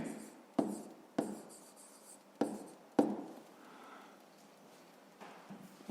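Pen writing by hand on paper during a fifth-grade maths exercise: quiet scratching strokes with several sharp taps as the pen lifts and lands, close and faint, with no talk.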